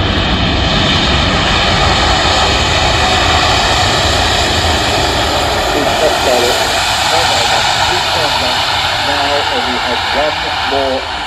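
An Airbus A350-1000 with Trent 1000 engines roars through a slow demonstration flypast at Farnborough Airshow, a loud sustained jet drone with shifting whine, while a commentator talks over it.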